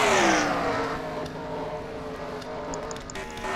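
Race car engines roar in an oval racing video game as a crowded field runs three and four wide, a loud continuous pack drone with one car's pitch sweeping down early as it passes.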